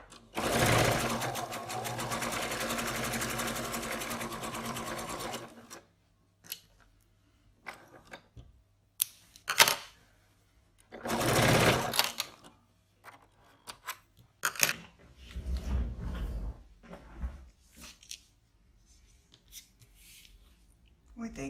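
A sewing machine stitches fabric along a marked line in a sewing demonstration, running steadily and loudly for about five seconds, then giving short bursts and clicks, with scissors-like snips and handling of the cloth.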